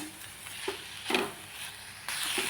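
Chutney being stirred into cauliflower sabzi over a high flame, a steady sizzle broken by several louder scraping stirs, close and without talk.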